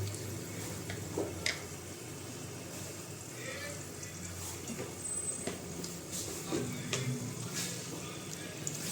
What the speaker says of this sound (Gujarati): અહીંયા આપણું તેલ ગરમ થઈ ગયું છે આપણે થોડા કેટલા એમાં આખા મસાલા નાખશું